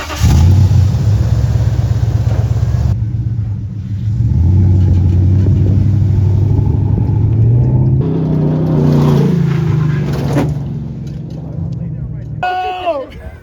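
A Nissan truck engine rumbles and revs while driving over desert terrain at Ocotillo Wells, a loud, steady drone that shifts in pitch as the throttle changes, with people talking over it.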